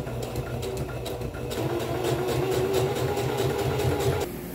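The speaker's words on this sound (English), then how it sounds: "Now I got to get these sides put together and then sew that part up." Sewing machine stitching the side seam of a leather-style cowboy vest, a steady mechanical whirring hum with rapid rhythmic needle pulses, close, briefly easing off near the end.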